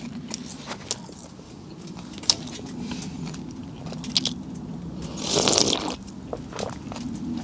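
Crispy seaweed-wrapped food cooked at a snowy winter campsite, crunching in a quick burst of crackles midway through, with light rustling and handling noises around it.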